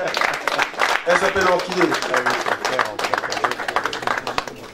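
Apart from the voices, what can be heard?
audience applause at an awards ceremony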